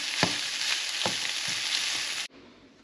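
Beef and onion curry mixture stirred in a hot pan, with a constant close sizzle and several soft, regular scraping strokes, and the frying noise cuts off abruptly near the end.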